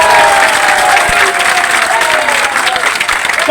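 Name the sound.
crowd clapping at a protest rally against smart meters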